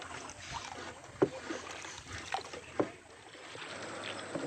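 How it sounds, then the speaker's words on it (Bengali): A boatman rows a wooden dinghy on water near Sabujdwip, Balagarh: soft splashes and a few distinct oar strokes knock and drip close by over a quiet outdoor background. "এই দেখো আমাদের মাঝি ভাই নৌকা চালাচ্ছে"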